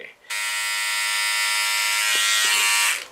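A Philips OneBlade electric razor buzzing steadily through a shave: a loud, close, continuous high-pitched hum that starts abruptly and runs unbroken for about three seconds before cutting off.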